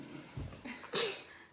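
A single sharp sneeze bursts out near the end, loud and close, following a couple of softer breathy sounds in an indoor kitchen setting.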